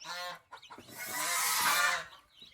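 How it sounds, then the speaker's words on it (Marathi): Farm chickens and chicks clucking close by in two short bursts, a quick cluck then a longer squawking call that trails off, faint and alone. "आणि ह्या आहेत कोंबड्या आणि कोंबड्यांची पिल्लं"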